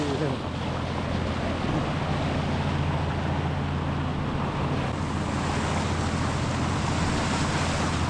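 A six-cylinder Isuzu 6HH1 engine drives a fiberglass boat out on the Pacific Ocean, its steady low drone running unbroken under loud wind and crashing surf.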